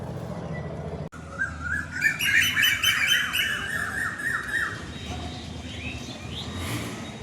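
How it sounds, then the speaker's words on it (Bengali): Birds singing outdoors after rain, a loud burst of rapid repeated chirps and warbling calls starting after a sharp cut, then fading into softer calls over a faint background hiss. "পাখিরাও বৃষ্টি পেয়ে খুশি,"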